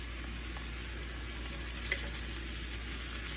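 Mushrooms, garlic and onions fry in extra light olive oil for beef stroganoff, giving a steady, even sizzle throughout with no talking.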